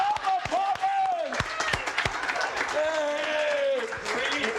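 A roast crowd keeps up loud, steady applause and cheering for Mama Poppin while an excited host shouts encouragement over the clapping.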